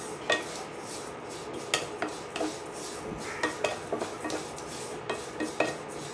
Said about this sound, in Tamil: இப்போ நான் ஒரு 2 நிமிஷமாக இதை வந்து வறுத்துட்ருக்கேன்.